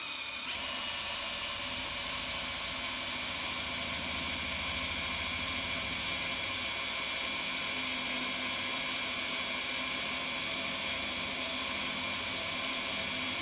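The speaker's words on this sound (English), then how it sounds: "So they're very hard steel. Oh, that drill bit's blunt." A power drill grinds steadily into hard steel with a blunt bit, a continuous whining drone with a high squealing tone, sustained and close with no pauses.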